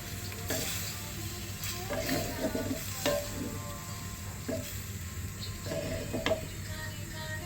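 Bottle gourd is stirred and sautéed in a pan, giving a steady sizzle with repeated scraping and clinking of a spatula against the pan throughout, close and continuous with no talking.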